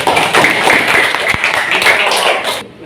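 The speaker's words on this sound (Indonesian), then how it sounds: "Tepuk tangan untuk kita semua." A classroom of primary-school pupils claps together in a dense, sustained burst close by, fading out abruptly at the end.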